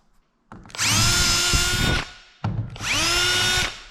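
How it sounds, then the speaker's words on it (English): A power drill drills out a bolt on a Kenworth K100E cabover truck, whining loudly in two sustained bursts with a brief pause between, steady high-pitched motor drone close by. "let's drill it out and put a new one in."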